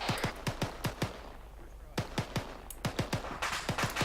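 Rapid bursts of military gunfire in a combat setting, sharp cracks in quick irregular volleys with a brief lull midway, fairly close and loud.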